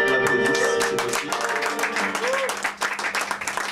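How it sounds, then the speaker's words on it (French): Applause from a small audience at an evening event at Le Fleurus in Paris, mixed with voices and some tonal background sound, the clapping growing more distinct toward the end. "je voudrais l'applaudir si c'est possible"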